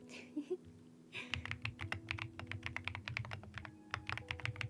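Rapid typing on a thocky mechanical keyboard fitted with marshmallow keycaps, a close, dense run of deep, muted keystrokes in an irregular rhythm after a brief pause at the start.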